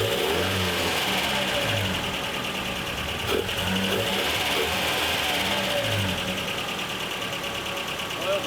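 Nissan 720 ST truck engine, a Datsun-era four-cylinder running steadily on its first start in years, a continuous mid-pitched idle with a faint rough knock and a slight rev near the middle, heard close up.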